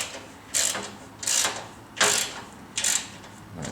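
Ratchet wrench tightening a bolt during assembly of a Ridgid R4512 10-inch table saw, four short clicking bursts spaced evenly, close and fairly quiet.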